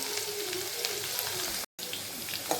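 Green chillies sizzling in hot oil in a pan while making pithla, a Maharashtrian gram-flour dish, giving a steady close crackle with a brief cut of silence partway through.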